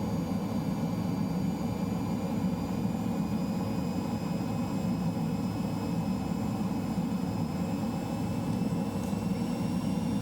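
Red Arrows jet coming in to land with gear down in Microsoft Flight Simulator, a steady continuous engine roar and airflow rumble with faint high whine, constant and close throughout with no voices.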